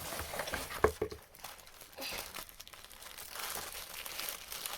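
Tissue paper crinkling and rustling as a sewing box is unboxed, with close, uneven crackles and a few sharper crunches, and no talk over it.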